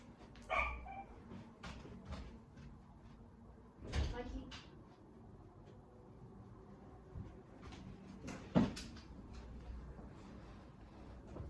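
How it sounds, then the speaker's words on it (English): A few sharp dog barks ring out in a quiet room, one near the start and others around the middle and later, with faint background noise. "my dog is barking"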